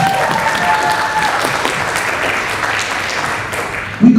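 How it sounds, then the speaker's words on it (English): An audience gives steady, dense applause for two double reed players at a school woodwind ensemble concert, the clapping sustained and fairly loud throughout with a brief louder burst right at the end. "Let's give them a round of applause."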